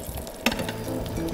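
Small meatballs (polpettine) frying in a pan, a close crackling sizzle with a sharp clack as something is stirred or moved.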